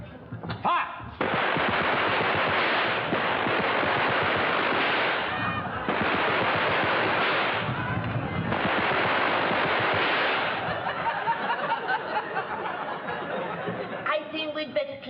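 Sustained burst of rifle and machine-gun fire from a Home Guard platoon in a wartime comedy, dense rattling volleys that swell and ebb for over ten seconds, with voices shouting faintly beneath the din.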